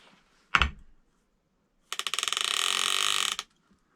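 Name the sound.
clicker of Lew's Laser XL baitcaster reel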